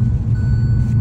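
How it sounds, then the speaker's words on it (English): A car's steady electronic seatbelt warning chime hums over loud, low engine rumble inside the moving car, with no talking. "Sorry about the beeping. She don't ever wear a seatbelt."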